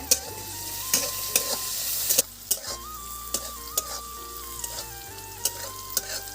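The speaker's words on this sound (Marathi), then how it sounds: "तर ह्या मिरच्या टाकते मी." Hot chillies sizzle and crackle steadily in a pan, with sharp clicks and scrapes of stirring breaking through the frying hiss; close and fairly quiet, no talking.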